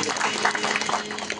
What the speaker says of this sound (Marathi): दर्शनचं एकदा जोरदार टाळ्या वाजवा.